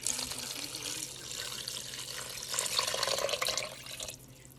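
Steady rush of cold tap water running continuously, a broad hiss that swells slightly before cutting off near the end.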